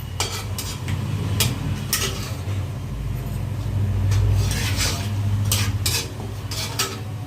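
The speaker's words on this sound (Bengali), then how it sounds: "এবার তেলটা আমার গরম হয়ে আছে, এর মধ্যে আমি জিরে আর তেজপাতা ফোড়ন দেব।" Cumin seeds and bay leaves hit hot oil for a tempering, making a close, steady sizzle, with sharp clinks of a metal spoon against the pan scattered throughout.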